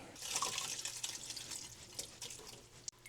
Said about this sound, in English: we're gonna strain this liquid using my chinois